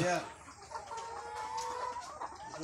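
Hens cluck continuously at a layer poultry farm, a dense close chorus with overlapping calls and no talk over them.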